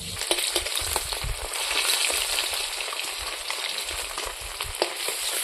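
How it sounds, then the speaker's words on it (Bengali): Pabda fish sizzling and crackling in hot oil in a pan, a steady close frying hiss with sharp spattering pops and occasional stirring clinks. "একবারে তো হবে না মাছ ভাজা, 2বারে ভাজতে লাগবে"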